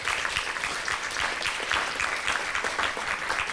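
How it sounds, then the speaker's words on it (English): An audience at the IDEAS26 conference keynote gives a round of applause, a continuous, moderately loud patter of many hands clapping together without speech. "I think they deserve a round of applause again."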